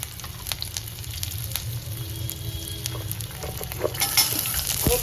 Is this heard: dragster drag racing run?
no